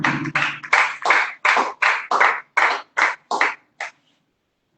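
Church congregation clapping in about a dozen distinct, fairly close bursts, uneven rather than steady, before the hands fall silent near the end.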